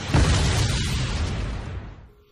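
A single loud explosion erupts with a deep, rumbling boom that rolls on for a couple of seconds before fading out.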